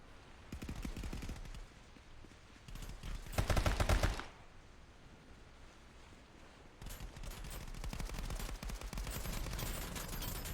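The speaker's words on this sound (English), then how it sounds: "Lots of gunshots coming in." Gunfire in the VR shooter Contractors VR during a competitive match: rapid automatic bursts come in clusters, with a loud dense volley midway, a quieter pause, then sustained firing resuming to the end.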